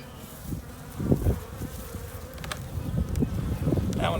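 Honey bees buzz around beehives, a steady close insect hum with individual bees droning louder as they pass near, faint outdoor background, no voices.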